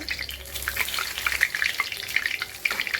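Bay leaves and dried red chillies crackle and sputter in hot oil in a karahi while chicken curry is being cooked, giving a steady close sizzle with bright pops scattered throughout and no talking.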